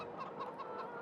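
A rooster clucking in a run of short, rhythmic calls in Farming Simulator 2013, fairly quiet and heard on its own without talk.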